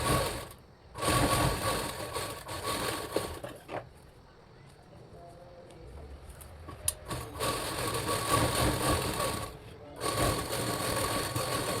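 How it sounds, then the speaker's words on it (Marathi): An electric sewing machine stitches the lining of a puff sleeve in steady, fast runs, pausing for a few seconds midway and between bursts, close and fairly loud. "स्लीव्जचं पिनअप करून अस्तर लावी तशी सेम दाबटीप देऊन टिप मारून घ्यायची आहे."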